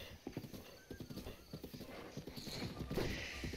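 In the Breath of the Wild video game, a horse's hooves clip-clop in a quick uneven run and the horse then gives a loud whinny. The sounds are fairly clear, with faint background noise.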